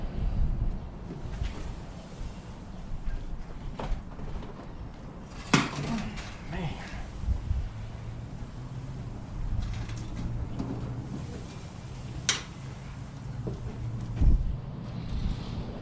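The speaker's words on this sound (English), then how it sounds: "Man, that wind is terrible today." Gusty outdoor wind buffets the microphone in a steady rumble while someone works on the door of a 1956 Chevy sedan. Scattered metallic clanks and knocks come through the noise.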